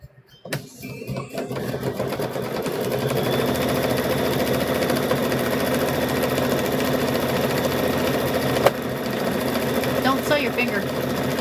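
A sewing machine stitches an abstract quilt, its rapid, steady motor-driven hum and needle chatter running continuously after a few stop-start taps at the beginning, with someone speaking briefly over it.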